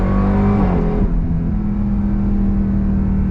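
A 2024 Dodge Durango SRT Hellcat engine holds a steady, loud, smooth rumble, with a slight change in pitch early on and then an even drone.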